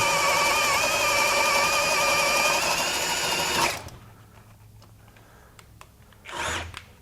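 A Ryobi 18V compact HP One+ half-inch drill driver whirring at low speed setting 1, a loud steady motor whine that cuts off abruptly partway through, followed by quiet and a brief second burst.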